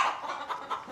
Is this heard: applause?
no